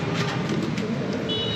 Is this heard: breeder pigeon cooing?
yes